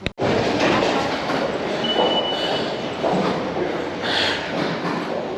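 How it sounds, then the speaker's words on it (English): A Paris metro train rumbles and rattles along the track, with a brief high wheel squeal and clattering carriage noise, loud and continuous from close inside or beside the train. "Trying to navigate the metro."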